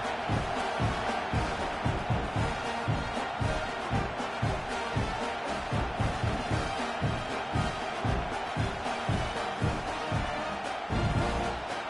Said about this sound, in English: You can hear this home crowd going bananas